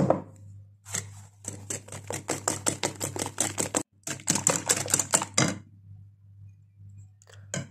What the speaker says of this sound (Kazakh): Енді 2 жұмыртқамызға қантымызды, шамалы біраз қасық майымызды, сұйық май және жаңағы айранды құйып жақсылап араластырамын